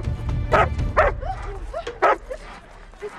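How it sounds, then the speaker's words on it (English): A puppy gives several short, sharp barks and yips near a motorhome at a border inspection checkpoint, with little whimpers between them; a person speaks softly over it. "It's just a puppy."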